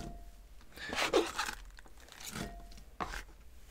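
A carbon steel knife cutting through red cabbage, giving crisp crunching, tearing slices close up, followed by another crunch a moment later, over faint background hum.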